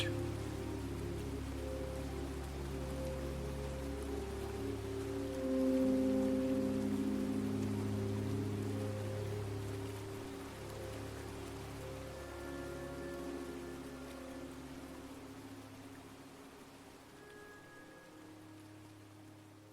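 Heavy monsoon rain pours steadily in the Himalayan foothills, a dense, continuous roar of water drumming on surfaces with low rumbling undertones, loud and close throughout with a slight swell midway.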